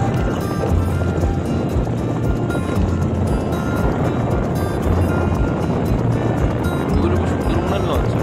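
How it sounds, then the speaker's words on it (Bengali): A tourist launch boat cruising the Sundarbans waterways gives a steady, loud engine drone with a low throb and broadband wash of water noise throughout, close and continuous. "সুন্দরবনের লঞ্চ,"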